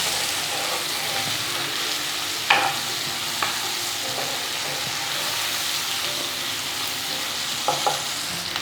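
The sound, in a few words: sliced tomato stirred into frying masala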